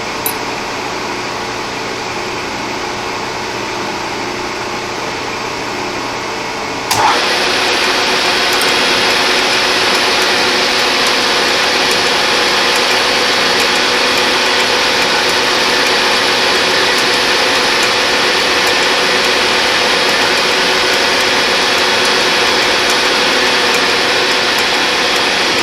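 A drilling machine with a digital readout hums quietly, then at about seven seconds the spindle starts and a loud, steady, broadband whir carries on without break, with no voices.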